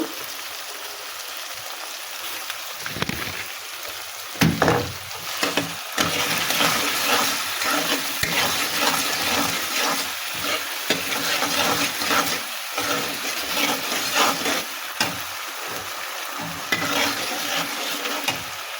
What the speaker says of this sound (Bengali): চালটা আমি এক ঘন্টার মতো ভিজিয়ে রেখেছি এবার ভাজতে দিয়ে দেবো